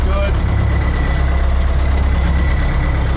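A vehicle engine idling steadily and loudly, a constant low rumble with a continuous drone that barely changes over a few seconds, with someone talking over it.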